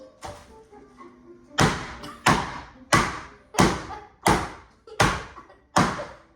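Loud, evenly spaced thuds of pork tenderloin being pounded on a board, about seven heavy whacks in a steady rhythm, close by.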